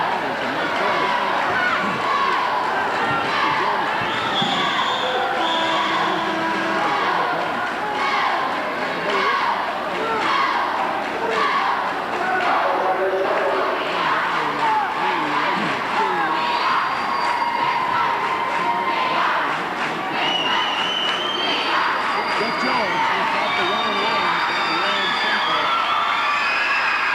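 A basketball crowd in Civic Hall roars and cheers steadily throughout, a dense wash of voices and whistles behind a play-by-play commentator talking over it.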